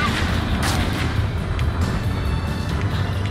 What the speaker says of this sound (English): Bandit acquired. Firing. Evade that missile, Strider 2.